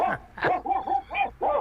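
A voice imitates dogs barking, giving a quick series of about six yappy barks and yips during a public comment phone call to a city council meeting; close, thin telephone-line quality, alone with no other talk.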